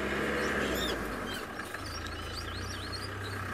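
Parrots call on a safari drive, with a few squawks and whistling chirps at moderate distance over a steady vehicle engine rumble.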